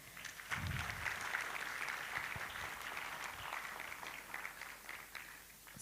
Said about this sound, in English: So can we give them a better clap?